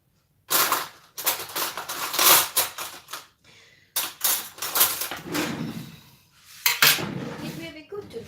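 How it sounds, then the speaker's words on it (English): Metal cutlery clatters and clinks as a spoon is pulled from a kitchen drawer, a run of bright rattling bursts with brief pauses between them, close and fairly loud. "I'm just going to get a spoon"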